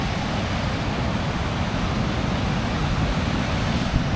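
Ocean surf at the Plaza beach in Lázaro Cárdenas, Michoacán, Mexico, a steady broadband wash of breaking waves that stays loud and unbroken throughout, with some wind noise mixed in.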